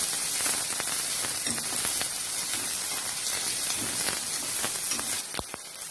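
Small chopped onions sautéing in a pan with goat intestine, giving a steady, dense sizzling hiss that holds throughout and dips slightly near the end, with no talking.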